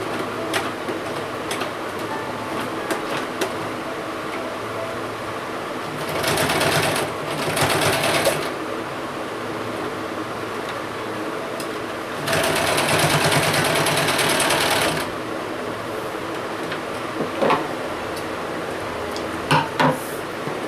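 A sewing machine stitches elastic onto a child's nikkar (half pant) in two bursts of steady whirring, one short and one longer, with quiet room tone between them.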